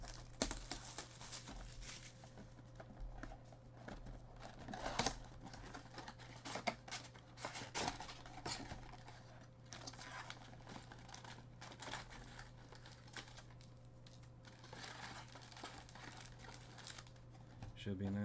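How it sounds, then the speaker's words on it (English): NBA Donruss Optic trading card packs being torn open, a continuous stretch of crinkling and tearing foil with scattered taps and handling noises, fairly faint and close. "And then we'll actually get started with the ripping."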